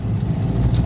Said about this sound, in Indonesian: Ini suara raungannya di mesin guys